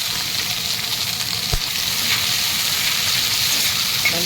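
Sliced onions fry in hot oil with mustard seeds and curry leaves, giving a loud, continuous sizzle close up and a brief clatter partway through, with no voices.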